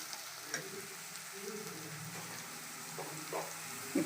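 Onions fry in a pan for a sea fish curry, giving a soft, steady sizzle with occasional light stirring scrapes, fairly quiet and close.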